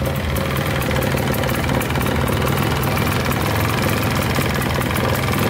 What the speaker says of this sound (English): It's idling pretty good right now.